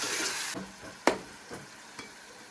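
Salt and tomato going into a hot spiced-oil tempering in a home kitchen, heard as soft, quiet sizzling with a few sharp stirring clinks and scrapes spaced through it, no talk.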